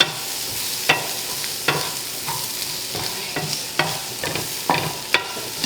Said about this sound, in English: Let them saute up here for just a minute or 2.